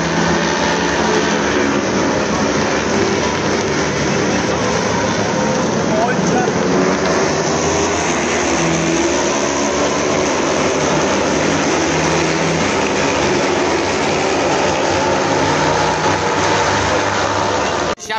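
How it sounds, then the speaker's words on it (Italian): Superbike racing motorcycles at the Misano circuit make a continuous, dense roar of engines that fills the full length without a break. "si sente in lontananza il rombo dei motori"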